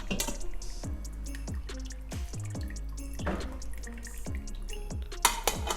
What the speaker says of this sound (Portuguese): Vou deixar ele escorrer um pouquinho para tirar todo o caldo.